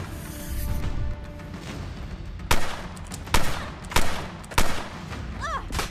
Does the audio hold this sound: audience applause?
no